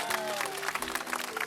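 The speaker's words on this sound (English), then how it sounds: "Wow, what a round of applause." A seminar audience claps in a brief, dense round of applause, steady and close with many hands, a faint voice underneath.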